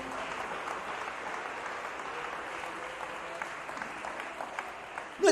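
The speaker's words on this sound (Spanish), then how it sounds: "Denle ese aplauso fuerte a Jesús." Sustained applause from a church congregation, steady and dense throughout, with a brief louder burst near the end.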